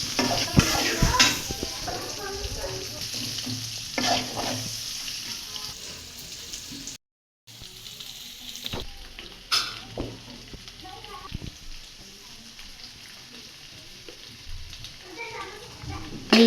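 Steady crackling sizzle of potatoes frying in hot oil, with occasional clinks of utensils and faint voices in the background.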